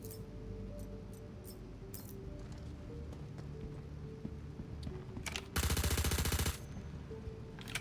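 P4A4 rifle fire in the shooter game Project Hyperion: scattered sharp shots early, then a dense, loud full-auto burst lasting about a second, over low background game noise.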